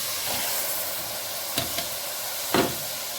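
Meat sizzles in a pan with onion and garlic paste, a steady broad hiss with a few brief scraping stirs, close and alone without any voices.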